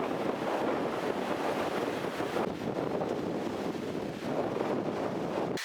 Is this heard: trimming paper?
no